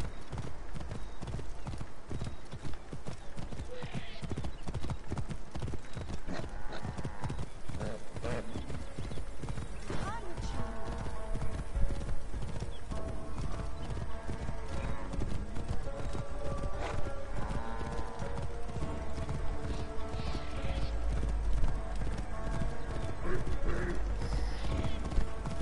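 Horse hooves clip-clop steadily in Assassin's Creed Origins, a fast, even gallop rhythm that runs throughout, with occasional neighs and game music underneath.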